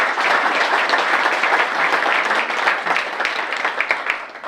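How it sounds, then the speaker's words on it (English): An audience at a VIP breakfast event applauds, a dense, loud wash of many hands clapping continuously that thins slightly toward the end. "if we could, with a round of applause"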